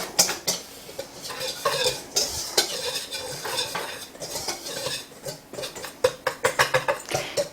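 Spoon scraping and clinking in a bowl while ground ginger, allspice and clumpy brown sugar are stirred together for gingerbread pancakes, a busy run of close, rhythmic metallic taps and scrapes with no talking.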